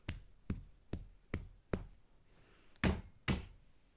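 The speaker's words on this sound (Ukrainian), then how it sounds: "та хто там стукає?" Sharp knocks on a door come in a steady series of five evenly spaced raps, then a brief pause and two louder, heavier knocks, each distinct and fairly close with nothing else heard.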